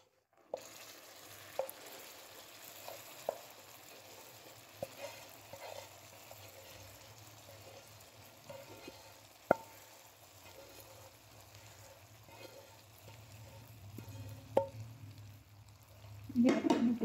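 Sugar syrup is stirred into khoya carrot kheer (gajar ki kheer) in a pan, giving soft, faint stirring scrapes and light bubbling with occasional clinks, ending in a louder burst of handling.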